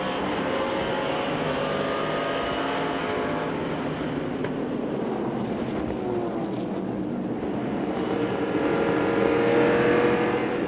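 NASCAR race cars at the 1998 Carquest Auto Parts 250 accelerate together at a green-flag restart, heard from onboard. A dense, roaring engine drone rises and swells toward the end, with no speech over it.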